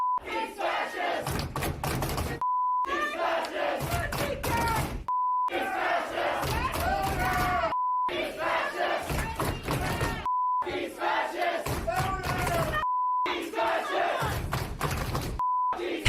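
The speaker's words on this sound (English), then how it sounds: "they did that by chanting and screaming at him the entire time" A crowd at a speaking event chanting and screaming in rhythmic bursts, loud and close, with thumps and shouting, broken by repeated short beeps and silent gaps between segments.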